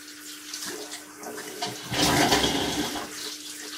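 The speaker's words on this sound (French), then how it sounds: "un petit coup d'eau froide, histoire de faire le choc thermique qui enlève tout le goût et toute l'odeur qu'il y a dans le tuyau" Cold tap water runs through a hookah hose to rinse it, a steady rushing splash that swells louder midway and then settles, with no talk.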